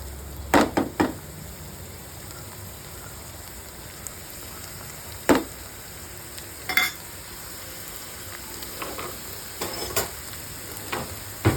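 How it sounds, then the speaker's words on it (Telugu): Chopped onions frying in oil in a pan with a spoon of ginger garlic paste give a continuous soft sizzle, broken by a few sharp spatula knocks and scrapes, with no voices. "ఆనియన్స్ ఆల్రెడీ చాప్ చేసినవి ప్యాన్ పెట్టి ఆయిల్ వేసి ఆనియన్స్ వేసాను"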